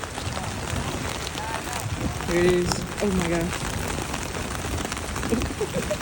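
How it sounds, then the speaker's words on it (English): A dense, steady patter of hail pelts a surface all around at the Grand Canyon, with people talking excitedly over the clatter. "What do they call it? Hail."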